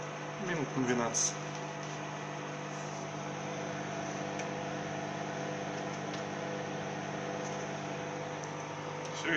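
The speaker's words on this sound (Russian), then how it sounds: "Микроволновку ставим" Microwave oven running while cooking potatoes, a steady electric hum and droning fan that continues evenly throughout, with a brief clatter at the start as the door is closed.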